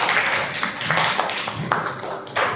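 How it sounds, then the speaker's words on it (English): Short bursts of classroom clapping from a group of students in a math lesson, several quick rounds of claps close by, with faint voices underneath. "Clap for us"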